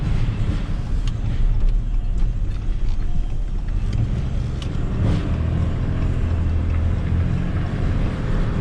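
A Cummins diesel truck towing a trailer carrying a machine pulls uphill, a heavy low engine drone running steadily close by with wind buffeting the microphone.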